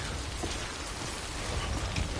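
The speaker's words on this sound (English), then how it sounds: "So it has to rain. I hate rain in this game because of BTs." Steady, dense rain falls in the Death Stranding video game, a constant hiss of drops with no pauses and a faint low rumble underneath.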